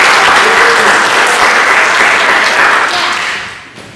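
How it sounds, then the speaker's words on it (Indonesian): A class of students gives a round of applause during a Python programming lesson. The clapping is loud, dense and continuous, then tapers off and fades near the end. "Sekali lagi beri tepuk tangan untuk kalian."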